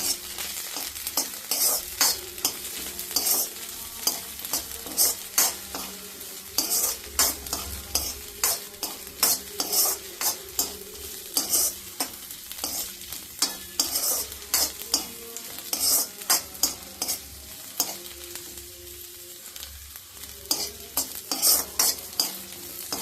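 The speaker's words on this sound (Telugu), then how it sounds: "మిర్చి కూడా వేసేసి ఒక్క 1 minute దాన్ని స్టిర్ చేయాలి" Onions and green chillies stir-fried in hot oil in a pan, a steady sizzle broken by frequent sharp scrapes and clacks of a spatula, close and continuous with no talk.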